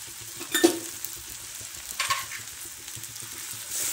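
Spices sizzling as they are stirred into a dal and eggplant dish in an iron pan, with soft frying hiss and a few brief scraping stir sounds, close and fairly quiet.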